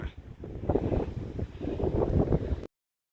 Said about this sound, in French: voir et entendre le vent et le sable qui est charrié par ce vent-là